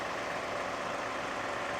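Tractor engine idling steadily and close by, a dense broadband rumble holding even in level with no pauses, no voices over it.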